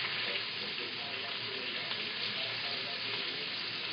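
Food frying in oil in a pan, a constant dense sizzle that stays even and fairly quiet from start to finish, with no talking.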